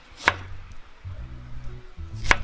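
Two sharp knife strikes on a cutting board, spaced about two seconds apart, chop carrots close by with quiet low background hum between them.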